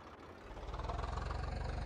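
A tractor engine in Farming Simulator 22 settling into a steady, low, throbbing idle with a regular pulsing beat, fairly close and alone without voices.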